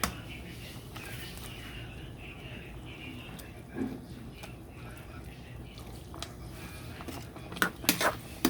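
Dishes, pots and cutlery clink and clatter faintly while pork nilaga is served in a home kitchen, with a few sharper metallic knocks near the end and soft voices in the background.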